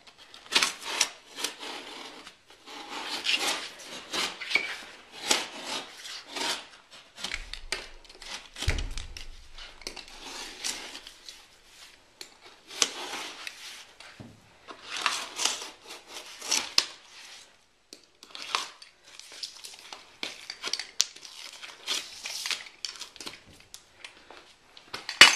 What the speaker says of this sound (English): Take the utility knife then and finish the cut all the way through.